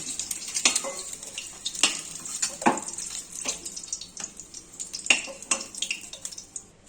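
Oil sizzles and crackles as eggs fry, under a spatula's occasional scraping and stirring, close and moderately loud with irregular pops.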